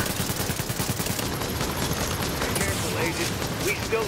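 A machine gun turret in The Division fires continuous rapid bursts, loud and dense throughout, while players talk over the gunfire.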